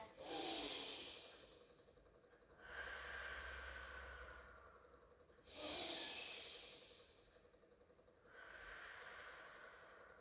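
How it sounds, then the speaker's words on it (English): Slow, deep Pilates breaths, alternating long audible inhales and exhales, four clear breath cycles, close and quiet with no talking. "Take 4 deep in, out breaths"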